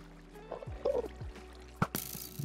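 Water flowing in the Minecraft video game, a soft pouring, trickling sound with a few scattered clicks and thumps, then a brighter hiss of running water near the end.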